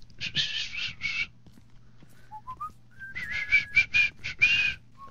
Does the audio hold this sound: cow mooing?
no